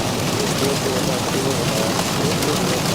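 Rain in the X-Plane 12 flight simulator during a Zibo Mod airliner approach, a dense, loud, steady patter on the surface that runs unbroken throughout.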